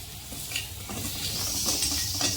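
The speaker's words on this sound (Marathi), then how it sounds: "चांगलं हलवून घ्यायचे," A spoon stirs turmeric, salt and curry leaves through hot sizzling oil in a pan for a potato bhaji. Steady frying hiss comes with soft scraping strokes, close and moderately loud.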